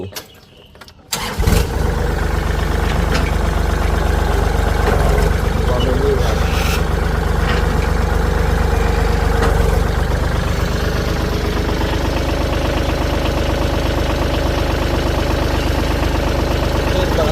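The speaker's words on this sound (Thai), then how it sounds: "เดี๋ยวเราลองมาสตาร์ทฟังเสียงเครื่องยนต์ดู" A Kubota L3608 tractor's diesel engine cranks and catches, then settles into a loud, steady, knocking idle that runs on without pause.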